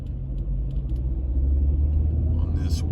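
A car driving across town in Ensenada, Mexico: a steady low engine rumble and road noise from inside the vehicle, with a brief faint higher whine near the end.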